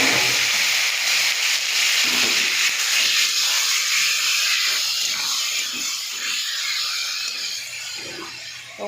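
Mutton hits a hot pan already holding a ground paste of ginger, garlic, black pepper and cumin, setting off a loud, continuous sizzling hiss that gradually softens a little over several seconds.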